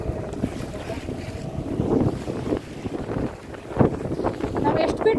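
A fishing boat heads out from Koderi harbour onto the Arabian Sea past the river mouth, its engine droning under heavy buffeting wind and splashing waves, with faint voices now and then.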